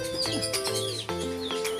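Birds at a bird farm, one perched on a person's head, chirp and tweet close by in quick repeated calls. Lower cooing tones run underneath them.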